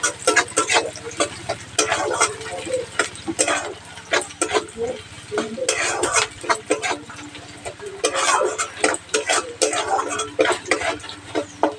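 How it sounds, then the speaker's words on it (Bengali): Chopped onion and garlic frying in hot oil in a home kitchen pan, a soft sizzle broken by repeated stirring scrapes and clatters at close range. "পেঁয়াজ রসুন বেশ ভাজা ভাজা হয়ে এসেছে"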